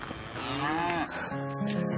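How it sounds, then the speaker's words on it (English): Cattle being driven along a trail: one cow gives a long, loud, close moo with a rising and falling pitch, then a second lower moo starts right after it. "the cows are trying to scatter"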